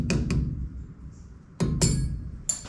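A small locking clip on a 1955 VW panel van brake rebuild tapped into place with a hammer, giving a few sharp metallic knocks in two close pairs and then a single final tap.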